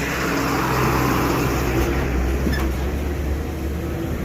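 A car on a road near Anganewadi in Konkan gives a steady, loud engine drone and road rumble throughout. Nobody speaks.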